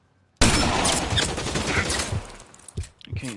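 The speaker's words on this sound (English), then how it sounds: "I can't see where he's shooting from." Gunfire erupts in LA Noire Remastered on PS5: a sudden, loud, dense volley of shots that thins into scattered bursts toward the end.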